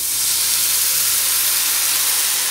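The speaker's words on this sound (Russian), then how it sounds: "Теперь заливаю водой." Water poured into a hot pan of bulgur frying in vegetable oil, a loud, continuous steam hiss and sizzle heard up close, holding steady and strong the whole time.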